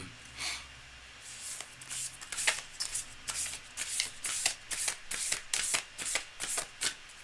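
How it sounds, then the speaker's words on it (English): Tarot cards being shuffled in repeated riffling bursts, crisp papery flutters with a steady rhythm, close and fairly quiet, no talking. "I'm just going to shuffle here for a little while till I feel the deck is fully cleared."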